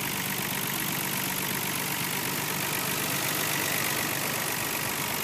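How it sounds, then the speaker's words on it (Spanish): A 1996 Nissan Skyline GT-R R33 V-Spec engine idles with a steady, even rumble and broadband hiss, constant in level throughout and close, with no voices. "vamos a ver cómo es el sonido en el motor"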